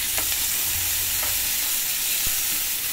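Onion and tomato sizzle in a hot pan for ginisang monggo, a steady close frying hiss broken by a few scraping stirs and clicks of the utensil.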